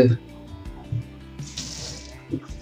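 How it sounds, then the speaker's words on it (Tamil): Water running from a bathroom tap in Delhi, a brief soft rushing stream in the middle, framed by a person talking before and after. "தண்ணி வருது."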